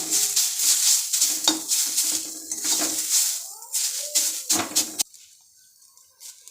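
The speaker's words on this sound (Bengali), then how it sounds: "আমি এখানে অল্প পরিমাণ ঘি দিয়ে ভেজে নিচ্ছি" Beetroot fries in a little ghee in a pan, with a steady sizzle broken by clattering stirs and metal scrapes before everything drops to a quiet hiss near the end.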